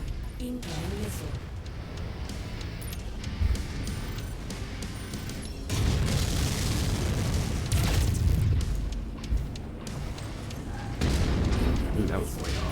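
Incoming missiles strike in the MechWarrior 5: Mercenaries video game, setting off heavy, booming explosions that swell and overlap across the stretch over a constant mechanical din, with voices audible over it.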